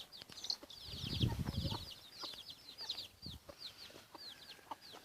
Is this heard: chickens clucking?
yes